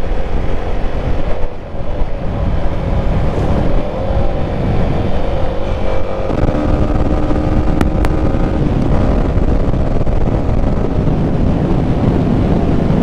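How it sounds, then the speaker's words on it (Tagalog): A Yamaha Sniper 155 motorcycle with stock exhaust drones steadily while accelerating, its exhaust rumbling under constant wind rush, with no one talking. "Naririnig nyo yung tunog ng ating motor."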